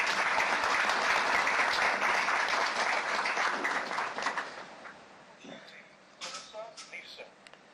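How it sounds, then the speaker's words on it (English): An audience at a city council meeting gives a sustained round of applause that fades out into scattered claps, with faint voices underneath. "And this is where you clap."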